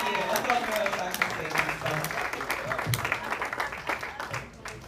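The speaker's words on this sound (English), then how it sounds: "Round of applause for me." An audience at a comedy club claps in a sustained burst of applause, fairly close, with a few voices mixed in as it gradually fades.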